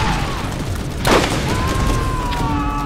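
A single loud burst of video game gunfire in Borderlands cracks out partway through, over a steady background hum of game noise.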